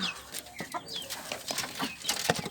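Chickens cluck and chatter on a small poultry farm, giving short overlapping calls close by with soft rustling in between.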